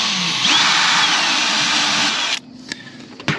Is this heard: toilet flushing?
no